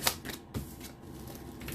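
Tarot cards are shuffled in a few quick riffling bursts, close and soft, with no talking over them.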